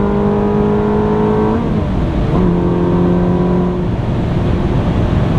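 A 2004 six-speed Ferrari 360 Modena accelerating from inside the car, a loud close engine roar climbing in pitch, a brief dip at a gear change, then rising again.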